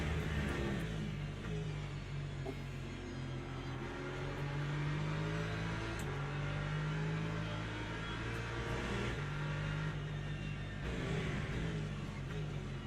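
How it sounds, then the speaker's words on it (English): An LMP3 race car engine in the racing game Le Mans Ultimate drones steadily and loudly throughout, its whining pitch shifting in smooth rising and falling sweeps. "That was an LMP3, I think."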